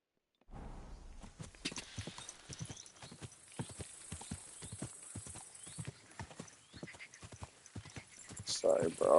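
Horse hooves clip-clop at a steady walking pace in the video game Kingdom Come: Deliverance II. The hoofbeats are close and rhythmic, with a brief whinny and a voice talking over them, and a louder burst near the end.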